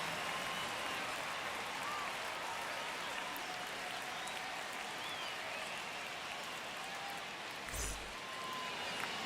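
Stadium crowd noise from MLB The Show 25 before the first pitch of a Diamondbacks versus Cubs game, a steady broad roar of cheering and applause throughout, with a brief louder burst near the end.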